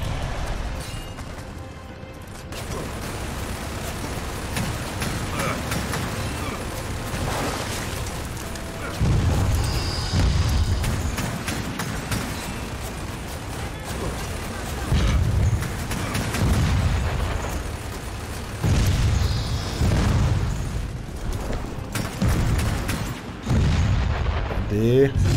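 Gunfire and explosions in the video game Gears of War 4, with repeated heavy booms and bursts of shooting rolling through a dense, continuous battle din, loud and sustained with periodic surges.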